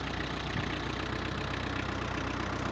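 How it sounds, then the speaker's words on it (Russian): Kubota X-20 compact tractor running steadily while its rear three-point hitch raises, a continuous mid-pitched engine hum at even loudness throughout with no clear change in load. "Сейчас покажу, как работает задняя навеска."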